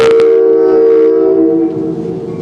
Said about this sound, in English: I know the train won't cooperate.